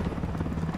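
Helicopter in the video game Ghost Recon Wildlands, a steady rotor thump with a low engine drone, close and continuous through the short moment with no talk.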